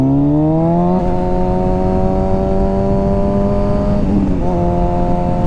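A Pontiac GTO drives past a motorcyclist on the road, its engine a loud, steady multi-toned drone that shifts pitch as it passes, all over constant wind and engine noise.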